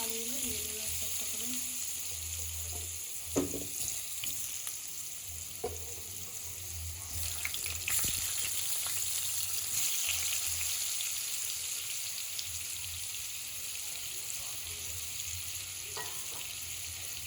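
Potatoes frying in hot oil over a low gas flame in a home kitchen, a steady broad sizzle running throughout with occasional sharper crackles and spatters, close and moderately loud, no talk.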